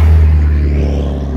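Steady low idle rumble of a modified Volkswagen Jetta drag car used daily and for drag racing, a close, loud, even engine drone with no clear rev rise, heard alone.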